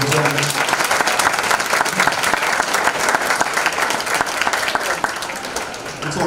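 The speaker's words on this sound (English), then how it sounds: "Another round of applause for Mr." Loud, dense applause from a large crowd at a high school graduation ceremony, steady clapping throughout with a few voices mixed in, easing slightly toward the end.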